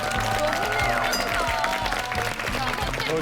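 Studio audience applause on a Korean television talk show, a steady wash of clapping with voices and music-like tones underneath.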